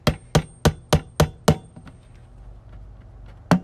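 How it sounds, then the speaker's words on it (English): A hammer drives a nail into a compost bin to punch holes: six quick, sharp strikes in a steady rhythm, a pause with faint handling noise, then one more loud blow. "I'm just gonna use a hammer and a nail"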